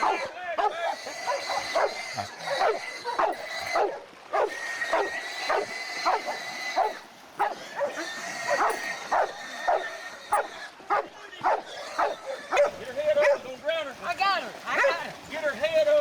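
Several hunting dogs bark and yip excitedly in repeated bursts as they catch a hog, with whimpers mixed in and people shouting over them outdoors.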